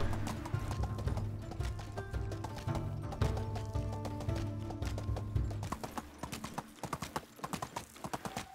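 Horse hooves clip-clop in a steady trotting rhythm while riding in the medieval game Medieval Dynasty, close and fairly clear over a low background drone, with a brief whinny-like tone.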